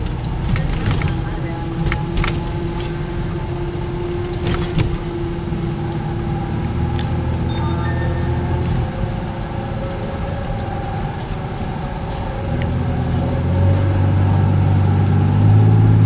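A car rolling slowly with the engine near idle, a steady low drone and hum from a suspected worn wheel bearing that grows heavier toward the end, with no talking.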